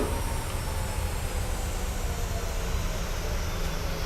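A PMDG 737 airliner in Microsoft Flight Simulator taxiing on its belly with no landing gear: a steady, dense rumble and roar of engines and scraping at an even level, continuous and unbroken, with no voices.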